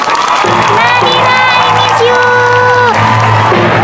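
Loud crowd cheering and applause in the Sakura School Simulator video game, with whoops and excited shouts that sound like children, all packed tightly together and running unbroken through the whole stretch.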